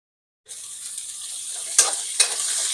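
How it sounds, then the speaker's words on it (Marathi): Onions sautéing and sizzling in a pan for Maharashtrian kanda poha, a steady close frying hiss with two sharper stirring scrapes near the end and no talk. "कांदाही परतून घेऊ."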